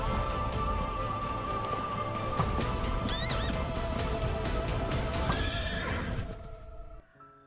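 Horse in a Minecraft animation neighs and whinnies over clip-clopping hooves and background music, several loud high whinnies in the middle before the sound cuts off near the end.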